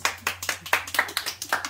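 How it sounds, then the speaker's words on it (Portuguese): Small audience at a family gathering clapping in a quick, even rhythm of about a dozen sharp claps, close and moderately loud, with no voices over it. "Gente, Gustavo merece palmas."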